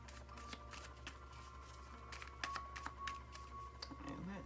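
Tarot cards are shuffled by hand in a quiet room, giving a steady run of soft papery riffles and flicks with a few sharper snaps.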